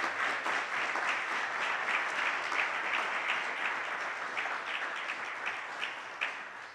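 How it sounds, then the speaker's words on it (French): An audience claps for an award recipient at a student concrete architecture prize ceremony. The steady, dense applause carries on for several seconds and gradually thins toward the end. "Donc je pense qu'on peut l'applaudir quand même."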